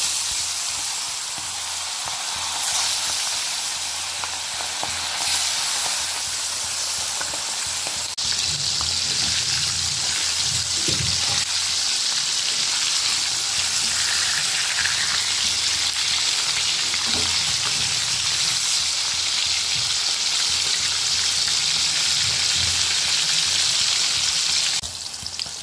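Pieces of bhetki fish coated in salt and turmeric fry in hot oil, a steady hissing sizzle with bubbling and occasional stirring that carries on continuously at moderate loudness.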